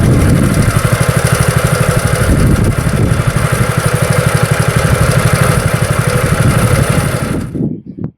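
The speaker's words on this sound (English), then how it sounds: "you've got your throttle here that's going to start the engine" A turf cutter's small petrol engine rattles loudly and steadily at close range with a fast, even pulsing, then cuts off abruptly near the end.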